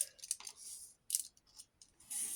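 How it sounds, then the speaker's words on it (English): Scissors snip through a bit of paper in a few quick, faint, crisp cuts close by in a quiet room. "Let me just cut that bit off."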